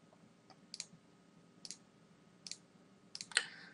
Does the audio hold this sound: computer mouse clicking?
yes